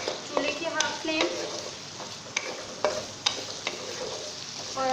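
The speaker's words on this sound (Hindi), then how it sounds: "2 से 3 मिनट के लिए मैं भुनाई करूँगी इसकी, ताकि अदरक लहसुन का पेस्ट और ज़ीरा वगैरह हमारा अच्छी तरीके से लग जाए" Ginger-garlic paste and cumin sauté in a pan over a medium flame for cluster bean sabzi, giving a steady close sizzle with repeated spoon scrapes and taps against the pan. No one speaks.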